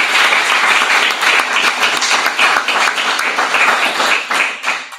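A lecture audience at a doctoral summer school in conformal geometry applauds, a loud, dense, steady wash of many hands clapping that tapers off at the end.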